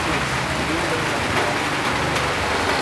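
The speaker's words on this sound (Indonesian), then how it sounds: "Ini mana hujan lagi, gimana nih ya?" Steady rain pours down outside a house, a dense continuous hiss of drops on surfaces, close and loud throughout without a break.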